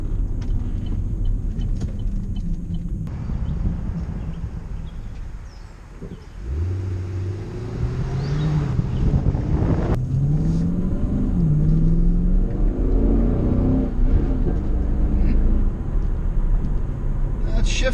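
A 425-horsepower car drives with a steady engine rumble, rising and falling in pitch as it accelerates and the automatic gearbox shifts up, heard from inside the cabin under a low continuous road drone.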